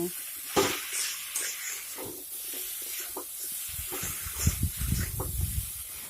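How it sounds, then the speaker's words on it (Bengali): Vegetables with salt get stirred in a hot pan, a soft hiss and sizzle broken by scraping strokes and a few louder clatters and bumps of the spatula, close by with no talking. "লবণটিকে আবারও সবজির সঙ্গে ভালোভাবে নেড়ে চেড়ে মিশিয়ে নিতে হবে"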